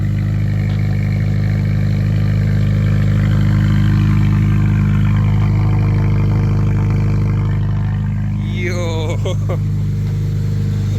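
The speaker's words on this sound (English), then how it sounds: "That car sounds so good when starting up." A Honda Civic engine starts and runs loudly and steadily throughout with a deep rumble, ending in a brief rising rev, while someone speaks briefly over it.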